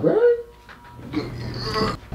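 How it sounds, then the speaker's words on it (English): A small dog whimpers and yips in short bursts close by indoors, with a person speaking briefly over it. "That is a dog."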